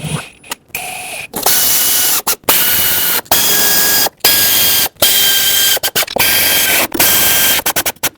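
Ratchet snugging down the valve cover bolts on a 2011-2016 Ford F-350 with the 6.2L V8, a loud, close run of dense mechanical clicking in several bursts separated by short pauses as each bolt is worked.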